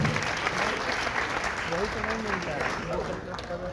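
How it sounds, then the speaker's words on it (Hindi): An audience at a poetry gathering in Mumbai claps in a steady, dense wash of applause, while a voice speaks faintly beneath it partway through. "आप जोरदार तालियों के साथ"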